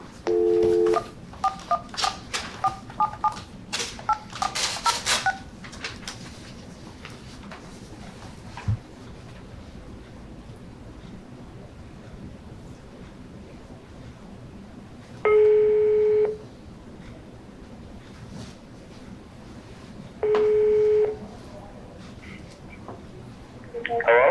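Touch-tone telephone keys are dialed in a quick rapid run, followed after a pause by two separate long, steady tones of a busy or ringing signal on a phone call placed during a meeting.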